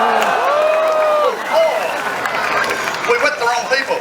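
An audience at a sea lion show in Sydney shouts together in a loud, sustained group yell that blends into applause and cheering, with scattered whoops above the crowd.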